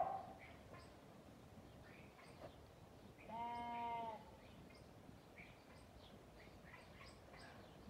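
A single sheep bleats once during lambing season, a wavering drawn-out call about a second long, faint over a quiet, breezy barn background.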